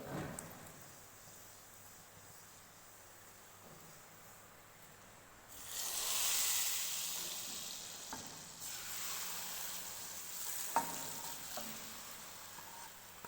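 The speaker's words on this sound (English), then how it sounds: "Now we will temper it into Rajma masala." Hot ghee and hing tempering poured into Kashmiri rajma masala, a sudden loud sizzle swelling up after quiet stirring, then settling into a softer hiss with a few clinks, close by and without talk.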